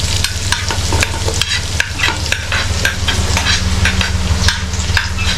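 Onion, garlic and tomato frying in a pan while being stirred, a steady loud sizzle broken by frequent scraping and clinking strokes of the spoon, with no talking.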